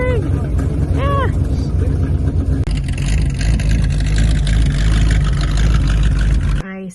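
A 1964 Studebaker Avanti engine runs loud and close with a deep, steady rumble, while excited voices talk over it at the start, and the engine cuts out abruptly near the end.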